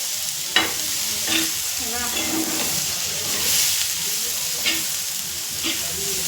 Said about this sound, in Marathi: आहे ना लसूण अद्रक टमाटे कांदे सगळे एक मिक्स करून भाजून घ्यायचं मस्त एकत्र करून